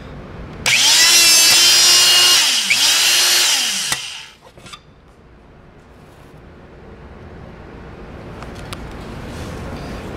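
An electric hydraulic hole punch, model MHP-20, drives through a slightly thicker piece of metal, a loud steady whirring motor with rising and falling pump tones for about three seconds, then stopping abruptly into quiet background.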